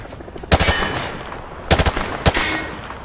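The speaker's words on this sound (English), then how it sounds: "Grab that weapon off the table and fire at the targets behind you." Gunfire rings out at range targets in the Modern Warfare video game: three loud, close bursts of automatic fire, each a rapid cluster of shots, with short pauses between them.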